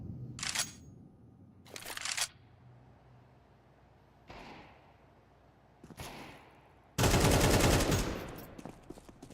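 Counter-Strike gunfire during a Hellcup 11 esports match: a handful of separate sharp, broadband shots spaced a second or two apart, then a louder sustained burst near the end over a low background.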